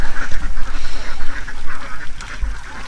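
Ducks on a balut-egg duck farm quack continuously and loudly in a dense, overlapping chorus, with bursts of calls throughout and low rumbling background noise.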